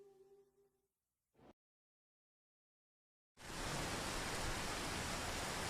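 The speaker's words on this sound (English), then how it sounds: "It's raining, and it's cold today." Steady, dense rain from the stealth game Metal Gear Solid 2 pours in loudly and evenly after a short silence, preceded by a brief, quieter stretch of tonal sound.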